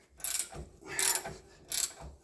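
A spanner with an Allen key bit turns a bolt during a rack end replacement on a Volkswagen Crafter, giving three loud ratcheting strokes in a steady back-and-forth rhythm close by.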